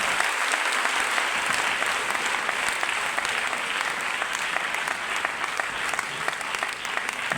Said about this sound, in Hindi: एक बार रियाज सर के लिए जोरदार ताली होना चाहिए दोस्तों।